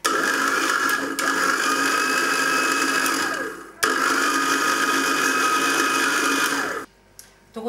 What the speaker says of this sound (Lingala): tokobanda donc kotia makemba na biso ndambu ndambu na mixeur